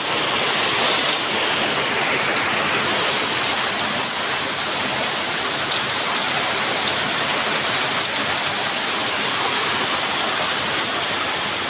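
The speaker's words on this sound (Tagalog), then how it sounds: "Karaming lakas ng ulan." Heavy, steady rain from a typhoon on Burias Island pours continuously, a dense hiss of drops drumming on surfaces with no break, close and loud throughout.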